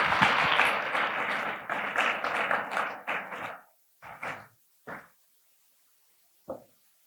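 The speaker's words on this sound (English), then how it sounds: "Can we give them another round of applause?" An audience at an academic excellence symposium applauds the panel, sustained loud clapping that thins into a few scattered claps and then fades to silence with one last late clap.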